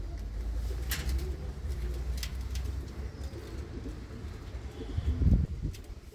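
Pigeons kept by a Punjabi pigeon fancier coo softly and repeatedly at close range, low murmuring calls over a quiet outdoor background with faint rustles.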